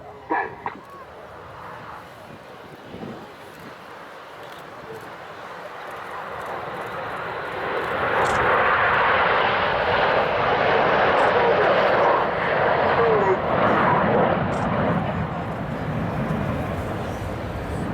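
Red Arrows BAE Systems Hawk T1 jets flying in formation at an air show, a broad roaring jet rumble that swells louder midway and stays strong, heard from a distance with no talk.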